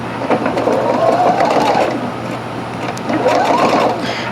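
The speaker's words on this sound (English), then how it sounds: "Now we're going to sew the crown onto the side panels." Sewing machine stitching the crown onto the side panels of a bucket hat made from upcycled denim jeans, a close, steady mechanical whir with no voices.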